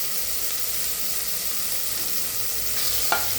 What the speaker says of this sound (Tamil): வெங்காயம் வந்து லைட்டாக தான் வதங்கணும்